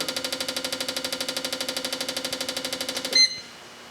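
An engine idles during a fuel injection tester idling test, a steady rapid pulsing chug close by that runs evenly for about three seconds. It then cuts off with a brief clunk, leaving near silence.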